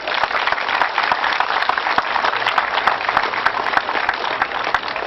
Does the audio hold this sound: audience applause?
yes